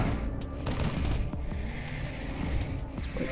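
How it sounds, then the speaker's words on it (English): Continuous rapid gunfire from the video game Reflex Unit 2, dense overlapping automatic shots and bursts sustained loudly throughout with no pauses. "I'm just blasting my way through here"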